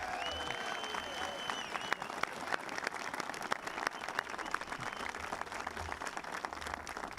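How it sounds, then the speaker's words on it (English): An audience at a Second Amendment rights event gives a sustained round of applause for state representatives, steady crowd clapping throughout with some faint voices and a brief tone early on. "Let's have a round of applause for these guys."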